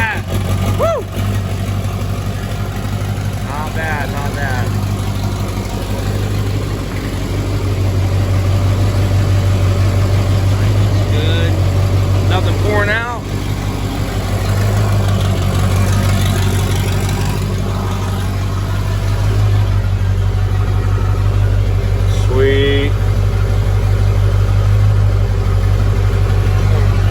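A freshly installed burnout truck engine runs after its first fire up, a loud steady low idle with occasional small revs and faint voices in the background.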